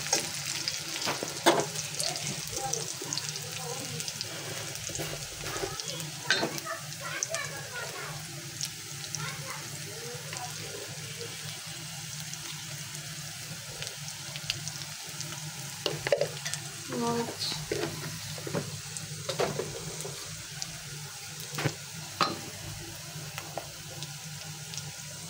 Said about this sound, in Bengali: এখন হচ্ছে আমি টমেটো রান্না করবো।